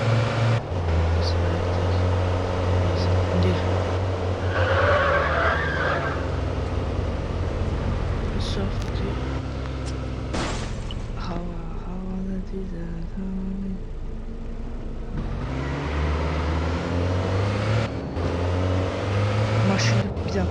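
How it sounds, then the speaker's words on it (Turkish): A car drifting in the Madout2 video game: a loud, steady engine drone with revving swells that runs the whole stretch, with a brief dip in the middle before the engine picks up again. "drift edeceğim"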